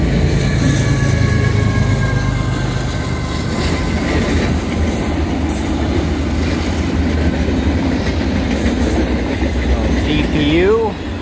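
A CN intermodal freight train rolls past at Montmagney, Quebec, a loud close rumble with clattering wheels throughout and a rising squeal near the end.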